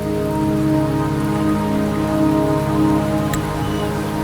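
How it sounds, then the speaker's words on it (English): Steady rainfall in the video game Wuthering Waves, a dense continuous wash of drops hitting surfaces at an even level, accompanied by a sustained low tonal drone and no voices. "The rain is subsiding, and the sky will soon clear."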